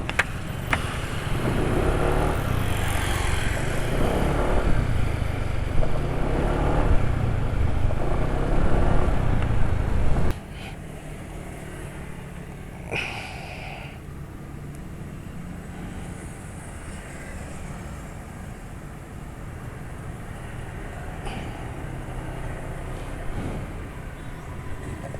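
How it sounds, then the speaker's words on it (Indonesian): Motorcycle engine running on Unirace 40 oil, a steady loud mechanical drone with a rougher, busier stretch in the first ten seconds before settling to a quieter, even hum, with a few brief higher whines later. "ngerasa kasar suara mesinnya ya"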